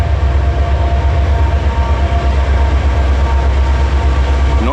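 Norfolk Southern freight train passing on a busy line, a loud continuous low rumble and rattle of wagons rolling by close up.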